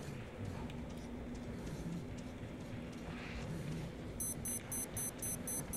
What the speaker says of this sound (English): Oh, that's my timer. That means I gotta swap it in a game minute.